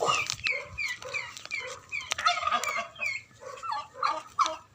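Chickens cluck and squawk continuously in a noisy flock, with other farm birds joining the chatter.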